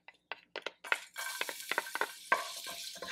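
Garlic hitting hot oil in a pan over medium heat, crackling in quick separate bursts that build into a steady, close sizzle.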